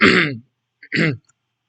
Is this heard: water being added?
no